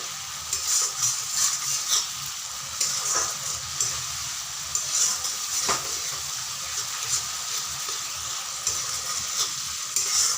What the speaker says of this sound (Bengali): তো যতক্ষণ না তেল ছাড়বে ততক্ষণ ধরে কষাতে হবে, এভাবে নাড়া দিয়ে দিয়ে কষাতে হবে।